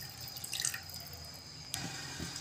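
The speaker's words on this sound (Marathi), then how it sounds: "इथे मी 1 वाटी पाणी ॲड करते यामध्ये" A bowl of water poured into a soup pot: a brief quiet splash followed by a second short splash and light drips over low background hiss.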